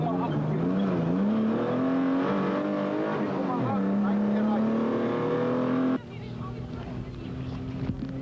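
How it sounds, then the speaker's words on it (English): From on board a GBS Racing Nissan Hardbody race truck in the Nampo off-road race, the engine roars loud and constant, revving up and down through shifts before the note drops to a lower drone near the end. "On board with new race leaders Hein Grobler and Charles Vormerans in the GBS Racing Nissan hardbody"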